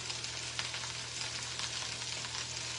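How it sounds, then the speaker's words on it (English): Salmon searing on high heat in a stainless nonstick pan, a dense, steady sizzle and crackle close by without talk. "first step is to sear the salmon"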